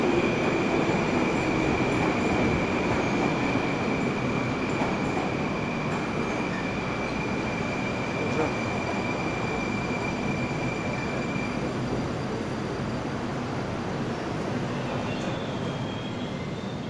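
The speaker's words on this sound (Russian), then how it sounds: "И тоже подходит новый поезд" A new-generation Moskva-model metro train pulls into Moscow's Turgenevskaya station on a winter evening, a steady rumbling roll with a faint high whine and occasional wheel clicks, heard continuously from the platform at moderate volume.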